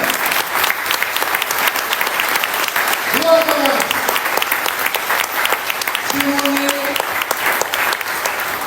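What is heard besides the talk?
audience applauding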